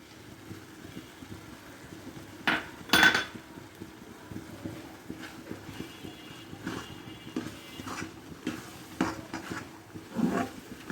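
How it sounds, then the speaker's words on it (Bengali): Ingredients for banana chira sondesh being mixed with milk powder in a bowl, with soft intermittent clinks and scrapes of a utensil against the dish, quiet and irregular. "সব উপকরণ মিশিয়ে নিচ্ছি"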